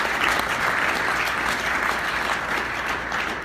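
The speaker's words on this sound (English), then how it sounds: "So give yourself a round of applause." An audience applauds steadily for several seconds, a dense, even wash of clapping from many hands without cheering or voices.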